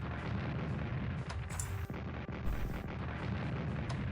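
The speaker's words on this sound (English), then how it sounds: "Okay, now let's use some artillery pieces." Artillery fire in the Strategic Command WWII war game, heard as a dense continuous rumble with a few faint booms and pops scattered through it, and no talking.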